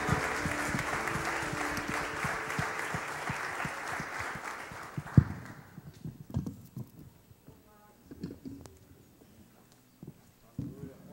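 A church congregation claps during a worship service: dense, fairly loud applause for about five seconds that then breaks into scattered claps and murmuring voices.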